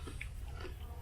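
Close-up chewing of crunchy Takis Waves chips, with a few muffled crunches and wet bites against a low steady background hum.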